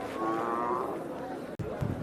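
A bull at a busy cattle market gives a low, drawn-out moo close by, followed by a brief break and crowd noise.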